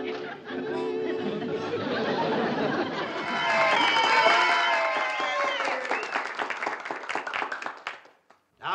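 An audience at a small-town talent contest breaks into applause mixed with chatter and a little laughter; the clapping builds, peaks, then breaks into scattered claps before stopping.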